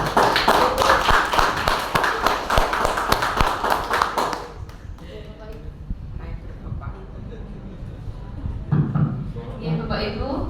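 Audience at a school sharing event at SMA Negeri 2 Wonosari gives dense, loud applause for about four seconds. The clapping then cuts off, leaving room noise and faint voices.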